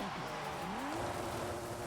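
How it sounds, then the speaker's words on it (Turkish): A car in Forza Horizon 5 skids under the handbrake with a sustained tire squeal over a steady engine roar, loud and continuous for about two seconds. "El frenini bir çeksem şöyle."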